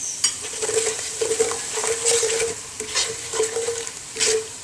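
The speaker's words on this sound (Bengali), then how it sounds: "আমার শুকনো মরিচ রসুন কুচি ভাজা হয়ে গিয়েছে" Dried chilies and chopped garlic fry in oil, a soft sizzle under repeated scraping stirs of a spatula against the pan and light metallic clinks, close and fairly quiet with no speech.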